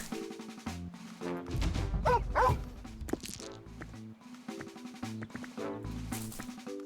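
A dog barks in the claymation roguelike video game Dobbel Dungeon, several short barks mixed with game sound effects and a crash-like hit, heard alone without talk.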